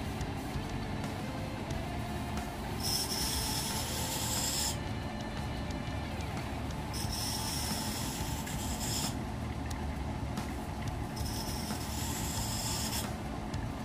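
A knife blade is ground on a belt grinder for its finish grinds, giving a steady abrasive hiss, with several multi-second passes of sharper, brighter grinding standing out over the constant motor hum.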